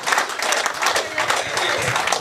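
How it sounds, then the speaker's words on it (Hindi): Audience applause and clapping at a Hindi poetry recital, a dense steady patter of many hands filling the whole stretch with no pause. "ताली बजानी हो बजाओ"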